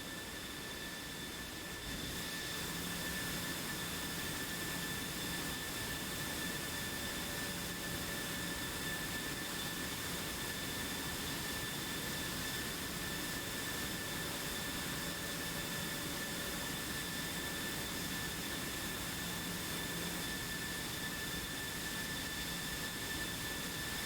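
Steady, loud jet-engine roar and whine from F-16 and Hornet fighters in the DCS flight simulator, droning without a break and carrying a high tonal whistle, with no voices.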